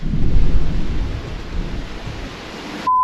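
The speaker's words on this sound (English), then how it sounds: "No, that's definitely thunder." Heavy thunder rumbles in the distance over a clifftop at night, a deep rolling roar that swells early and then fades into a low continuous murmur.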